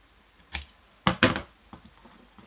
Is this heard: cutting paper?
yes